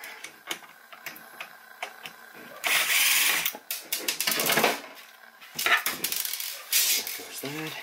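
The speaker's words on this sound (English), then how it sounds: "we should be able to pull these two screws and just drop the whole thing off the back of the handle assembly" Two screws are backed out of a toy dart blaster's handle assembly, with ratcheting clicks from a screwdriver and bursts of whirring mechanical rasping, close and intermittent.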